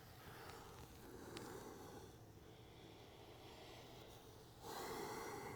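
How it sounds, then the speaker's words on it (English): Deep breaths are drawn in and pushed out during a foam roller recovery exercise, soft close snorting inhales and exhales with a louder breath near the end, no talking. "Deep breathing."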